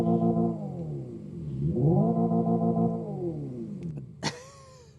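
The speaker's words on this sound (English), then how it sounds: "Never thought I'd see the day that an electric vehicle has an exhaust note" Synthetic exhaust note from the exterior speakers of a 2025 Hyundai IONIQ 5 N electric car, a loud, harmonically rich engine-like drone that rises, falls, and swells again, ending with a sharp pop and crackle.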